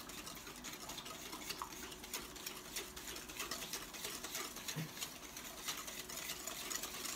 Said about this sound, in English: Then you put in the egg and the yolk. Okay? And you carry on whisking.